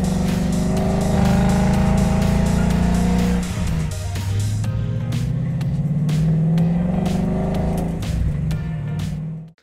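A 2017 Ford Mustang GT V8 with an aftermarket exhaust roars through loud, sustained revs and hard acceleration, its deep engine note rising and dipping before cutting off abruptly.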